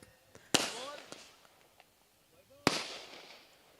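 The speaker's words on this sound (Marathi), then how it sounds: "आपण फटाके ऑन करायचे आहेत" Two sharp firecracker bangs about two seconds apart at a village cricket tournament, each trailing off in a crackling burst, with faint voices and background chatter in between.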